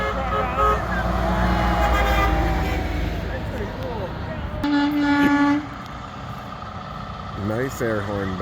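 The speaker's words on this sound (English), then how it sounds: "Nice air horn, Ben." A truck's air horn blares in a nighttime parade of lights at a truck show, one long steady blast mid-stretch among rumbling engines, with people talking nearby and another horn-like toot toward the end.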